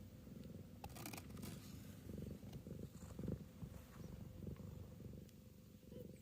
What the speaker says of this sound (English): I think you can hear her purring.